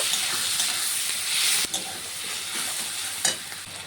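Onion and green chili fry in catla fish oil for a brinjal dish. A loud, steady close sizzle carries a couple of sharp spatula knocks against the pan.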